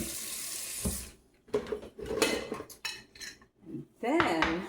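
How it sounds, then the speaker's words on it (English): Porterhouse steak rinsed under a kitchen faucet, running water splashing in bursts into a sink with clinks of dishes and a pan, close and moderately loud. "beautiful porterhouse steak I treated myself to, and I'm gonna rinse it off really quick."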